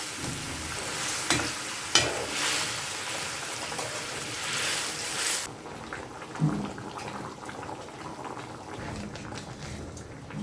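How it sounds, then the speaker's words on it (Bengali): Chopped onion and garlic fry lightly in a pan for a thin fish curry with seeded banana: close crackling sizzle with occasional stirring scrapes, growing quieter and sparser midway. "হালকা একটু ভেজে নেব"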